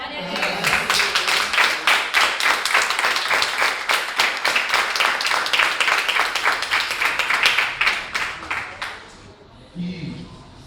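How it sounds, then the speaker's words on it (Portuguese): A church congregation applauding during a worship service, a long burst of dense, rhythmic clapping from many hands filling the room, gradually thinning out near the end. "Quem crê pode aplaudir o Senhor."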